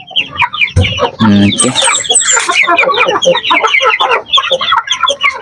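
Week-old chicks chirping busily and close up, with a dense run of high peeps and some clucking, while a person speaks briefly over them.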